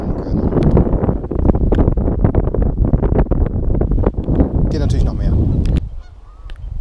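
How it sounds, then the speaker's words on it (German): Strong wind buffets the microphone beside high water near a flooded island and rocky flat, a constant loud roar, with sharp goose-like honks over it before the gusts ease near the end. "Ziemlich windig."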